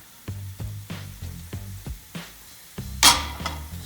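Garlic puree tipped into a pan of frying onions for a vegan chickpea curry, giving a series of short, evenly spaced sizzling bursts followed by one louder, brighter hiss near the end, with no talk over it.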